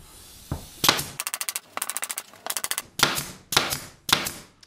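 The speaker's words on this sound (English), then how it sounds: "And I've got 3/4 inch brad nails in my gun. And then you just push it down." Brad nail gun loaded with 3/4 inch brad nails, fired while building an insulated beehive bottom board and roof: a series of sharp snapping pops and rapid clattering bursts, close and loud, with no talking.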